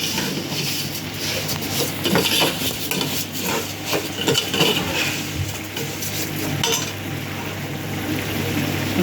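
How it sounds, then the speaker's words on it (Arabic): Vermicelli noodles are stirred and fried in a pan, with a spoon scraping and clinking against the metal over a steady low sizzle, close and continuous. "ونحمر فيها مع بعض كده لحد ما لونها يبقى ذهبي"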